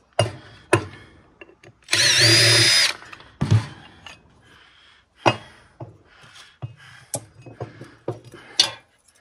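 A power drill backing screws out of a cast-aluminum hydroponic grow light whines in one loud burst of about a second, surrounded by scattered clanks and handling knocks from the work.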